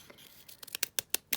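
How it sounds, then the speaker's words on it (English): Scissors cut through paper for a paper-ruffle craft in a quick run of about half a dozen crisp snips that grow sharper and more regular, heard close and alone. "I'm just going to kind of cut it here, just like that."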